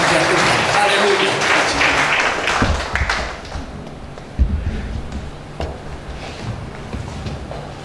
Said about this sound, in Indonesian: Tepuk tangan yang panjang buat Tuhan